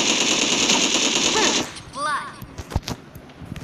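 Gunfire in the video game Sausage Man, heard as a sustained rapid automatic burst that cuts off and is followed by scattered single shots and clatter. It is loud and close, with a voice speaking briefly.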